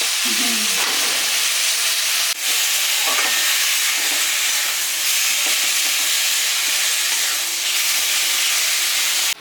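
Fish frying in hot oil gives a loud, steady, close sizzle that hisses continuously throughout, broken only by faint stirring scrapes, with no voices.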